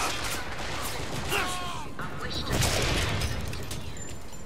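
Gunfire in Bioshock Infinite, a few bursts and impacts mixed with game effects and clatter, at moderate level over a busy battle background.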